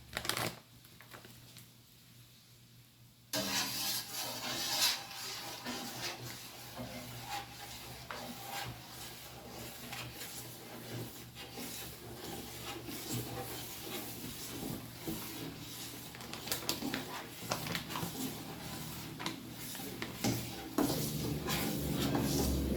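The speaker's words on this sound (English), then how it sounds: "Just stir it so that nothing is stuck to the bottom." Malt stirred into a home-brew beer pot produces continuous scraping, swishing and rubbing against the pot bottom, steady and close for most of the stretch after a brief quieter start.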